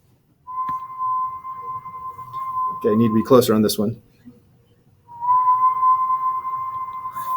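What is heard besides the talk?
low whistle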